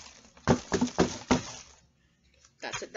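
Pencil shavings dumped out of a shredding sharpener tumble out in a quick, loud rattling burst of several clattering pulses, followed by a brief quiet and a softer scatter at the end.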